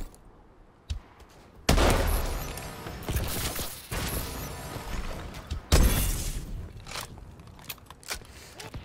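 A launcher firing in Call of Duty: Advanced Warfare, heard as heavy booming blasts with crunching, shattering debris. Two loud explosive bursts stand out between smaller thuds and clatter.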